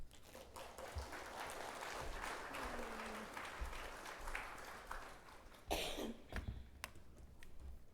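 Applause from a church congregation welcoming a minister to the podium for a Sunday lecture, a steady, fairly quiet patter of clapping with scattered coughs and small noises, rising briefly near the end.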